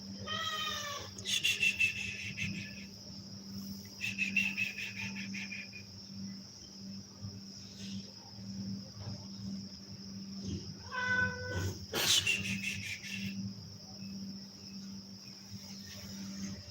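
A cat meows repeatedly in short bursts, several clear calls spread across the stretch, over a steady background of insects or crickets and a low hum.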